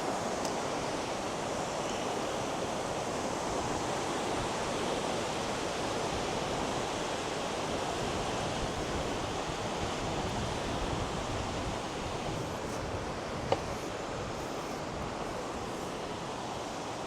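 The river along the Sweden–Finland border rushes steadily as a broad, continuous roar of flowing water, loud and unbroken for the whole stretch, with no voices.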